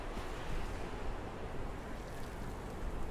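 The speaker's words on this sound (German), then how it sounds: "Ist das Wind oder Wasser, was ich da höre?" Steady broadband rush of water waves in the game Conan Exiles, a continuous surf-like wash with a windy edge that never lets up, moderately soft and with no talk over it.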